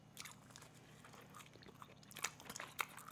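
Someone nearby quietly bites and chews bite-sized frozen pizza, making soft crunches and irregular chewing clicks, with a few sharper bites near the end.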